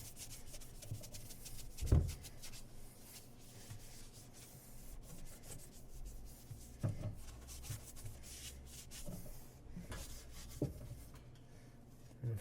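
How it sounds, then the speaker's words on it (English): A blue non-scratch scrub pad rubs over a stainless steel dishwasher interior with a steady, close scrubbing rasp, a few louder knocks and bumps breaking in along the way. "we take a scrub pad that's blue. It says non-scratch scrub pad, so that means it's not going to ruin the stainless steel."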